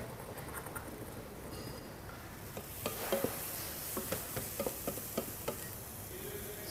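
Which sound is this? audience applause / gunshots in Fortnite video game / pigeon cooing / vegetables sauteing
vegetables sauteing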